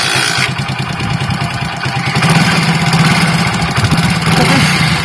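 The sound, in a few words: motorcycle engine running on homemade biogas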